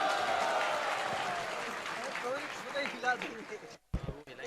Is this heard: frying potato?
no